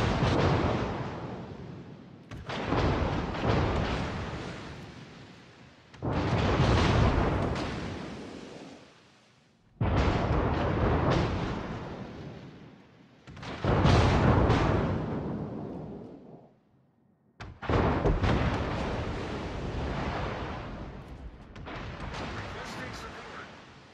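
Heavy naval gunfire from a destroyer in World of Warships, loud booming salvos roughly every few seconds, each with a long rumbling decay between bursts.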